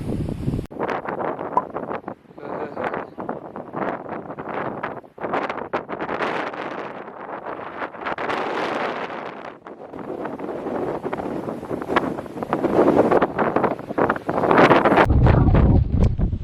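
Strong wind buffets the microphone in loud, uneven gusts and rumbles that rise and fall continuously, near Kibithu on India's eastern border with China.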